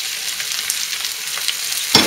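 Onions, cabbage and corned beef stir-fry in a hot pan with a loud, continuous sizzle, and a brief clatter of stirring near the end.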